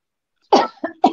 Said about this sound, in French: Je ne voudrais pas te tousser dessus